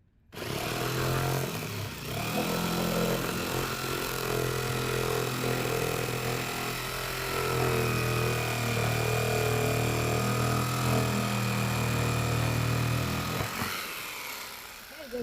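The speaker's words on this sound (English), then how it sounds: "it's a little bit difficult with the jigsaw getting the right angle" A jigsaw cuts through the blade of a plastic cyclone shovel, a steady loud motor buzz with a reciprocating drone that runs unbroken for most of the clip before stopping near the end.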